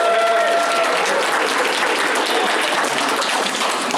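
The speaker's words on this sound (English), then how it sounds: "I think that deserves an applause right there" Sustained applause from a convention audience at an anime voice-cast panel, dense steady clapping filling the room throughout at even loudness.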